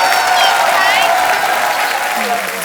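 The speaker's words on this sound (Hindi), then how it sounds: "और श्रद्धा कपूर और अर्जुन कपूर के लिए जोरदार तालियां" Studio audience on a Hindi TV comedy show breaks into loud, sustained applause and cheering that fills the whole moment, with a host's voice rising over the crowd.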